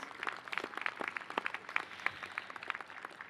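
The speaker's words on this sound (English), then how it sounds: "can we also just give one more round of applause and thanks to the Jazz A Band" Sparse applause from a student convocation audience after a jazz band performance, with a modest number of separate claps spaced out irregularly at moderate distance, thin rather than a full ovation.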